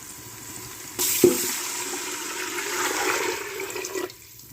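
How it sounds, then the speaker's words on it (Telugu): Measured water is poured into a hot cooking pot with salt and other ingredients, a steady close gush with sizzling and hissing that runs for about three seconds before stopping. "మనం కొలిచి పెట్టుకున్న నీళ్లు వేసేసేయాలి."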